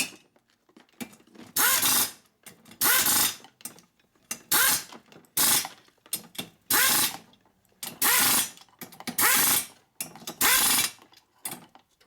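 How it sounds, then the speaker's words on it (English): Torque wrench ratcheting on the bolts of a Harley-Davidson Shovelhead engine, repeated bursts of sharp clicking strokes in a steady rhythm with brief pauses between, close and clear. "Torque wrench."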